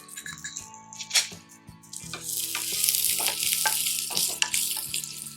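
Garlic sizzling in hot oil with asafoetida in a pan, a close crackling fry with scattered clinks and scrapes of stirring, no talking.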